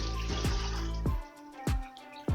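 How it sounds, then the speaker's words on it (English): Water pours into a pot of turkey meat, splashing and trickling in a steady flow with a few louder bursts, close by and with no voices. "I'm going to add water"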